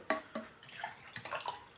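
BUVETTE healthy tea, a white tea drink flavoured with apricot and tangerine, is poured into a glass in short, soft splashy trickles, close by and faint.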